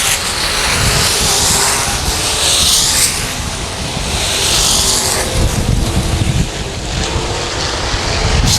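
Race cars at Salina Speedway roar past in a loud, continuous pack during Friday qualifying, engines swelling and fading as they battle close together for second place, heard through strong wind buffeting on the microphone.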